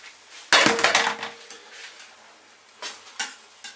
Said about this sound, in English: I'm going to pour the pasta straight into the frying pan